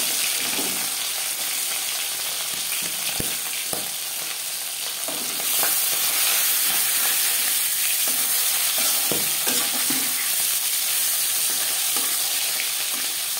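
Marinated tilapia fish pieces frying in hot refined oil, a loud continuous close sizzle with occasional pops and spatula knocks, swelling louder partway through.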